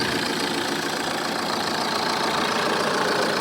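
A car engine runs steadily at a vehicle auction, a continuous mid-level idle hum lasting throughout, moderately close, with no voices over it.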